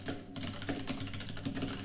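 Quiet, fairly continuous clatter of a computer keyboard being typed on, faint and slightly distant, with a low hum beneath and no speech.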